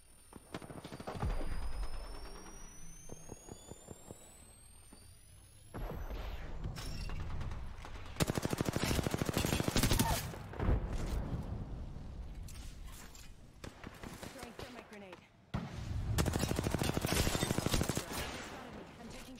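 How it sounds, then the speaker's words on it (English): Video game gunfire comes in several loud, rapid bursts of automatic shots separated by short lulls, with mechanical clicks and faint talk in between. "Shots."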